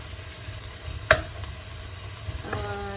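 Garlic and diced tomatoes stir-frying in a wok for tomato shrimp, a low steady sizzle broken by a sharp utensil knock near the middle and a fainter one near the end.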